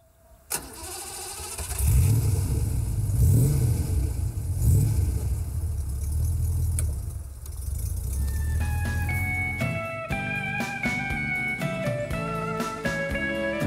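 Classic BMW 503 with the first production light-alloy V8 cranks, catches and revs in loud, close swells before settling into a steady idle, while music plays over the later part.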